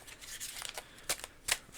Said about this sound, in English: Get a nice shuffle going on here